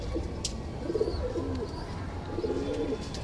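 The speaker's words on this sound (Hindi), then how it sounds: "ये ओरिजिनल इंडियन कबूतर है भाई, इंडियन कलदुमे कबूतर।" An Indian Kaldume pigeon coos in soft, repeated throaty phrases close by, low bubbling calls rising and falling over a steady background hum.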